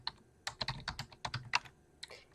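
Someone types on a computer keyboard, a quick irregular run of close, crisp key clicks with short pauses and no talking.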